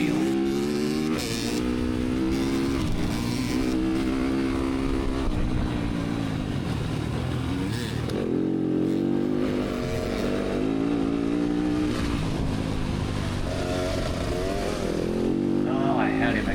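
A dirt bike engine drones and revs on the throttle during a mud race, its buzzing note rising and falling throughout while a voice talks over it.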